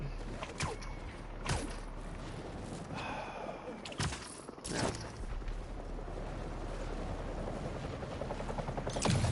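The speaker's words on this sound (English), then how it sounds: "A helicopter's blades." Helicopter rotor blades in Marvel's Spider-Man 2: a steady, close, whooshing drone with a fast pulse that sharpens toward the end, and a few brief louder swells and breathy sounds along the way.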